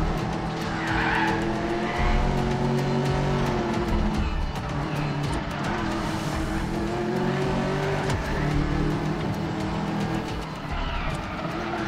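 A car in the Medal of Honor Warfighter video game squeals its tires continuously while the engine revs hard, a loud sustained screech and roar with shifting pitch that lasts the whole stretch.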